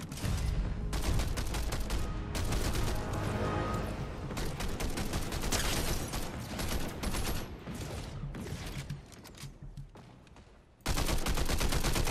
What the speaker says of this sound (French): Le mec qui me tire dessus.